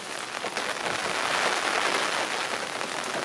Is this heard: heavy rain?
yes